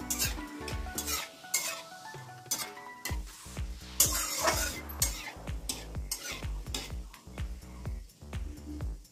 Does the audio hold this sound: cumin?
yes